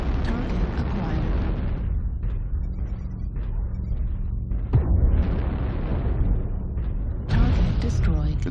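Game explosions blowing up a target in an online team match, with loud booming bursts rolling through the clip and a sharp blast near the five-second mark, all mixed under steady player voice chat.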